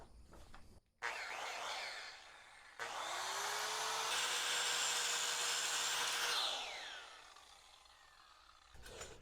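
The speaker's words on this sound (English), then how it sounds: "So I'm just going to use the grinder to grind that section out." An angle grinder cuts a notch into a metal frame, spinning up with a high whine and grinding steadily for a few seconds before winding down; a quieter earlier burst precedes it.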